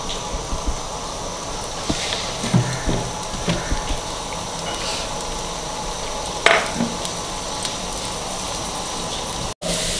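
Chopped onions sautéing in oil in a pan, a steady close sizzle with scattered soft pops and an occasional scrape, no voices.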